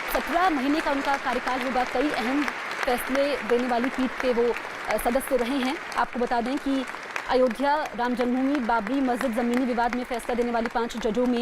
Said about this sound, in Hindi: तालियों की गड़गड़ाहट आप सुन सकते हैं।